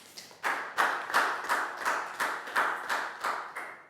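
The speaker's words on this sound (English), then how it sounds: "High five and a big round of applause for Nadia, please, guys." Children in a classroom clap for a student. About nine distinct, evenly spaced claps sound fairly near and crisp, with no talking.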